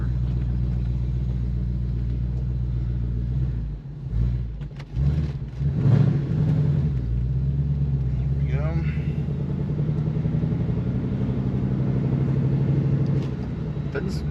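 Coyote-swapped 2006 Ford Mustang with a loud exhaust rumbling steadily at a deep idle for the whole stretch, with a brief blip of revs near the start and speech over the top.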